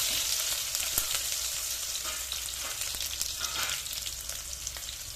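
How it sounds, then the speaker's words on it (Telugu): Mustard seeds and cumin spluttering in hot oil with onion for a broad bean curry: a dense continuous sizzle with scattered tiny pops and crackles, close and fairly loud throughout, no voices. "నూనె వేడైంది కొంచెం ఆవాలు జీలకర్ర జీలకర్ర ఆవాలు సిట్టపడలాడుతున్నాయి"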